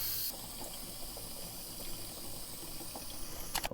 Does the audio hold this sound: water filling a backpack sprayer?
yes